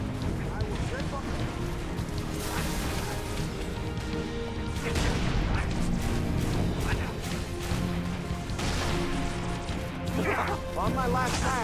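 Gunfire in the Halo 3 ODST video game: sharp bursts of shots and crashing impacts over a continuous busy soundscape, with a player talking over the action.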